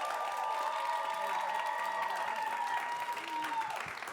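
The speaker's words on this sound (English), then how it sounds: "please applaud now." Steady applause from an audience fills the whole stretch, dense clapping at an even level, with a few cheers mixed in.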